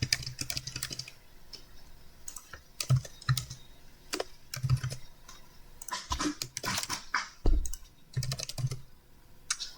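Quick bursts of computer-keyboard typing, close and fairly loud, in irregular clusters of keystrokes with short pauses between, as card details are entered into an online payment form.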